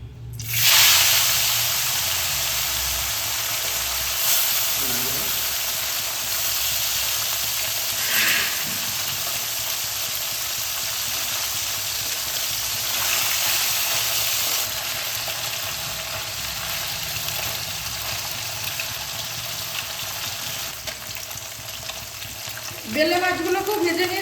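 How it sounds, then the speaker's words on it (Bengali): Bele fish fry lightly in hot oil in a home kitchen, giving a steady, close sizzle and hiss that lasts throughout, with a few soft clinks of utensils. "এবার আমি বেলে মাছটাকে ভাজবো। এই মাছটাকে একটু হালকা করে ভাজবো।"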